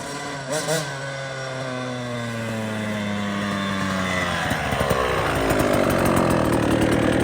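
Small 85cc–112cc dirt bike engine running with a newly installed Lectron Billetron Mini 29mm carburetor. It idles with a steady buzzing drone, then the pitch climbs and roughens as it revs up partway through, with no talking.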